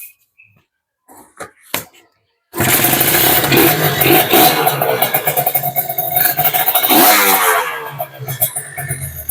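A two-stroke Kawasaki Ninja RR motorcycle starts after a few brief clicks and knocks, then idles loudly and close, the engine raspy and buzzing with rising and falling revs throughout.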